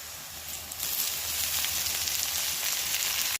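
Jhukti flowers hit hot oil seasoned with turmeric, chili powder and salt, a steady crackling sizzle that swells louder after the first second and holds evenly to the end, with no voices.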